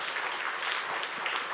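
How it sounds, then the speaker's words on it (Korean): A church congregation at Sunday worship claps in a brief, steady burst of applause, soft and fairly distant. "박수 가겠습니다"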